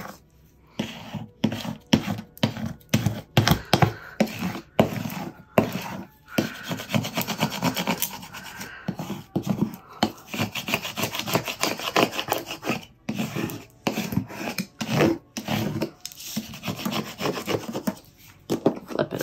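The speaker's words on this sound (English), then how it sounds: "use our scraping tool and really bond everything" A scraping tool rubs back and forth over vinyl on a large wooden Cricut sign, bonding it in repeated short rasping strokes with brief pauses between them, close and moderately quiet.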